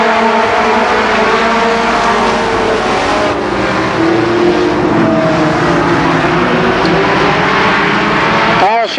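ARCA Pro 4 race cars roaring around Columbus Motor Speedway in a 10-lap heat race, a loud continuous engine drone from several cars with pitch shifts as they pass, a commentator talking over it.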